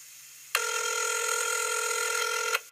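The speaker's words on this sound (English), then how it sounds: "The phone rang in my ear until a friend of mine picked up on the other side of the line." A telephone rings as an audiobook sound effect, one continuous bright electronic trill lasting about two seconds before cutting off abruptly, heard alone and close.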